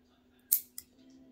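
Two quick scissor snips cutting hair from a removed wig during a home beauty session, the first louder with a short tail, the second lighter, over a faint steady hum.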